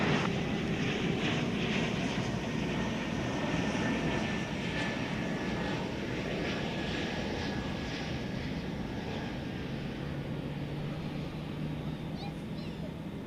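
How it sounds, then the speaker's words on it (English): A CRJ 701ER regional jet lands at DFW Airport, its engines giving a loud, steady broadband roar that slowly fades, with faint radio chatter underneath. "this one's going to be one of your CRJ 701ERs"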